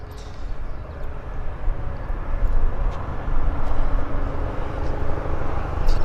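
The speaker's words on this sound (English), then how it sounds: "So here we have this WestJet 37 taxiing out." A steady, broad jet engine rumble from a WestJet passenger jet taxiing at Vancouver Airport drones throughout, swelling slightly midway, with faint high whine on top, at a moderate distance.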